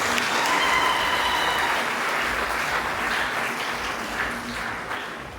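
A church congregation applauds during a Catholic Mass for the Presentation of the Lord at Saint-Cyprien, sustained dense clapping from a large crowd filling the space and slowly tapering off.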